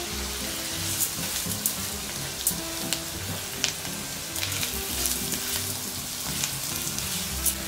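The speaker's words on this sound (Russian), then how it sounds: "К прижаренным луку и сельдерею добавляем рис." Rice for risotto crackles and sizzles in a hot pan with fried onion and celery, a continuous busy frying hiss with occasional sharper pops and stirring scrapes, close up and fairly loud.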